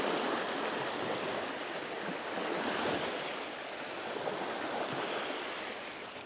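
Waves wash along the shore of St. Mary Lake in Glacier National Park, a steady, moderately quiet surf rush with soft swells and light wind noise, no voices.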